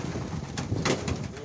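Pigeons cooing inside a frozen pigeon loft in freezing winter, low soft throaty coos close by over a steady rustling background, with a person faintly speaking.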